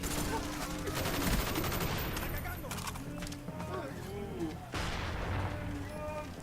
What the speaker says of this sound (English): except for this Jeep will explode